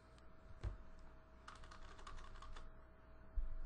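Fingers tap quickly on a computer keyboard, a short burst of close, quiet keystrokes over a faint steady hum, with no talking.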